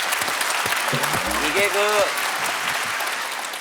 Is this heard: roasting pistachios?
no